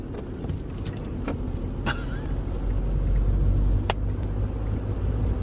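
2003 Honda Insight first-generation hybrid accelerating uphill after a downshift, steady engine and road rumble building slightly in strength, with a few light clicks and rattles inside the cabin.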